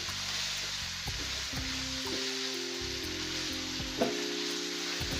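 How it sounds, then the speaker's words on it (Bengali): Spice paste being fried and stirred in a pan for an egg korma gives a quiet, steady sizzle with faint crackles and a few light scraping knocks over a low hum. "মশলাটা কষানো হয়ে আসছে।"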